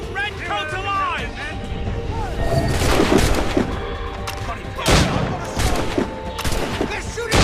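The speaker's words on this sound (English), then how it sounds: "They're shooting back!" Soldiers' gunfire in the Assassin's Creed Rogue video game, scattered musket-like shots and booms mixed with shouting voices and other battle noise, with several loud cracks standing out in the second half.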